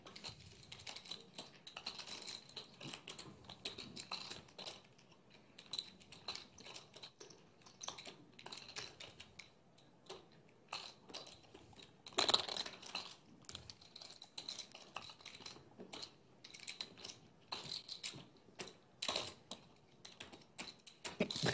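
Poker chips clatter as they are shuffled by hand, a quiet, continuous stream of small clicks and riffles with one louder clack near the middle and more toward the end.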